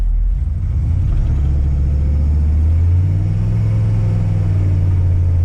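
Diesel OBS Ford truck with a slipping transmission pulling away from a dead stop in first gear, its engine rumbling loud and close in a steady low drone that rises slightly in pitch as it accelerates, with no talking.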